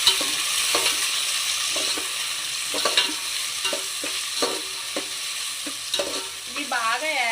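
Onions and green chilies fry in a pan with a constant sizzle, broken by repeated scraping strokes of a spoon at a steady rhythm, close and fairly loud.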